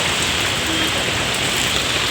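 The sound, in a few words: rain falling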